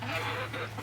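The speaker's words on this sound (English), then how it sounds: "the chickens over there are very happy because I gave them a breakfast of eggs" Backyard hens cluck softly and continuously at close range after being fed a breakfast of eggs, with a steady low hum running underneath.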